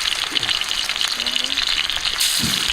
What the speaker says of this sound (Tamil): இப்போ தாண்டி பொரியுதே, எண்ணெய் சட்டி காஞ்சிருக்கு